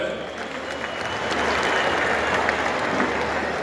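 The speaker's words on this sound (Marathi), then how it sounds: "मला सगळ्यांच्या वतीने मामांच्यासाठी संजय मामांच्यासाठी एकदा टाळ्या वाजवाव्या" Crowd clapping at an outdoor Lok Sabha election campaign rally in Malshiras, Madha constituency, a loud continuous wash of applause that swells and holds steady.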